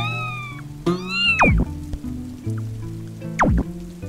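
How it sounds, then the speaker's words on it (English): A cat in the video game Braid gives several tonal, sliding meows over a soft synthetic musical backdrop, with a couple of sharp swooping sweeps standing out near and clear. "here's the cat"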